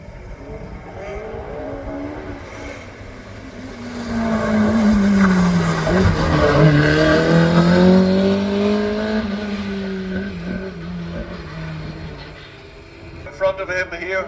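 A hillclimb race car on the Craigantlet course accelerates past, its engine note rising and sweeping through gear changes as it nears and then recedes, with a commentator talking over it.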